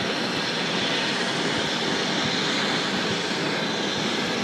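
Aircraft at Raleigh Durham International Airport, a broad steady engine roar filling the scene with no breaks, loud and continuous, with no voices.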